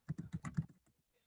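Quick run of keystrokes on a computer keyboard, about eight close taps in under a second, tapering off into quiet.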